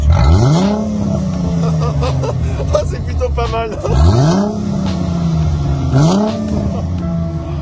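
A Chrysler Crossfire's 3.2-litre V6, run without its exhaust valves, revs hard three times in sharp, loud rising bursts that fall back to idle, with people talking and reacting between the blips.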